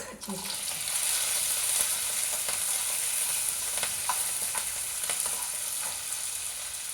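Mustard seeds, urad dal, chana dal and dried red chillies sizzle in hot oil for a tempering over rice rava pulusu, a steady close crackle with faint stirring clicks and no talk.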